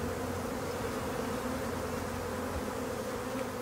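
A swarm of honey bees gives off a dense, continuous buzzing hum, loud and close, holding steady throughout with no voices.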